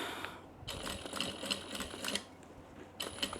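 A sewing machine back stitches a fabric tote bag with a recessed zipper, a quiet run of rapid mechanical clatter in short bursts, stopping and restarting several times with no talk.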